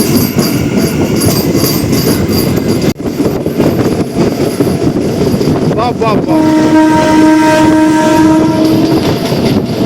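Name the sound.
Rajahmundry to Bhimavaram MEMU train running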